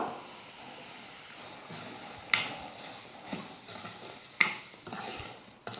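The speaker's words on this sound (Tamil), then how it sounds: "ஒரு டம்ளர் ரவை எடுத்துருக்குறேன் அந்த ரவையை சேர்த்து வறுத்துக்கலாம்" Semolina (rava) roasting in a pan with cashews and raisins, heard as a soft continuous scraping stir with a faint dry sizzle and a few sharp clinks of the spoon against the pan.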